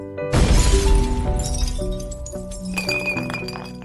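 A bar's front window shatters loudly and close, followed by a cascade of tinkling shards ringing and clinking as pieces fall and settle.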